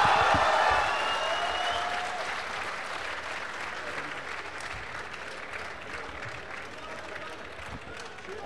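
A lecture audience at a talk on the abrogation of Article 370 and Kashmir breaks into sustained applause and cheering, loudest at the start and then settling into a steady wash of clapping with crowd voices.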